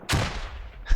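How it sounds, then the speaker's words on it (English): A grenade explodes in a video game team match: a loud, close, booming blast, then a second, shorter thump about a second later. "Ooh, grenade coming in."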